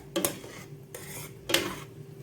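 A spoon stirs a stew of sweet pepper and tomato in a pot, giving three distinct metallic clinks and scrapes against the pot's side with soft bubbling between them, close and unaccompanied by speech.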